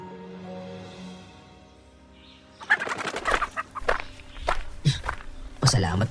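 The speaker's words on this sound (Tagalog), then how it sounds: "Nagkandagulat pa ang mga manok" Startled farm chickens scatter along a path up a hill, giving several sharp, close clucks and squawks with scuffling footsteps, following a quiet stretch with a low hum.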